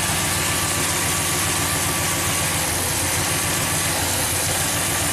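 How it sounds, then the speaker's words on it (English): A 1998 Chevy K2500 pickup with a misfire, engine idling steadily at around 800 rpm, a constant low droning rumble that fills the clip, close and loud with no talking. "Wonder why it's not idling down right now."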